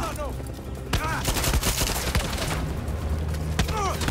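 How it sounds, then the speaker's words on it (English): Pistol gunfire in the Far Cry 6 video game: several sharp shots crack out in quick bursts over a low background rumble, loud and close. "You're gonna attack me with your pistol?"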